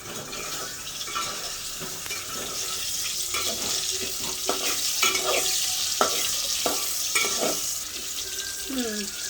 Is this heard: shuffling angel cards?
no